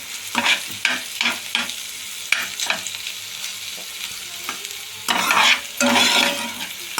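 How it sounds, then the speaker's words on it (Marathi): Vegetables sautéing in a pan over a low flame, with a soft steady sizzle and a series of spatula scrapes and stirs, close and with no talking. "2 मिनिटं मंद आचेवर नरम करून घ्यायचं, परतून घ्यायचं।"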